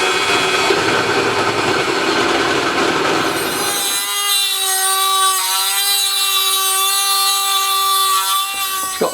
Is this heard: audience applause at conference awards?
no